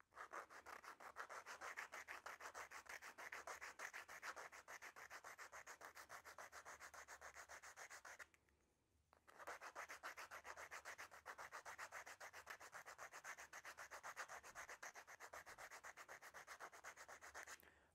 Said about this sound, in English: I'm going to run it up and down the sandpaper as I rotate it in my hand to bevel that top edge evenly